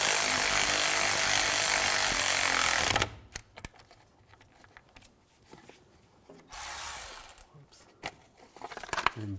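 Bolts being snugged down on a 2004-2009 Audi A4 Quattro rear wheel bearing hub: a loud, sustained power-tool whir runs for about three seconds, then short bursts and a second shorter run follow.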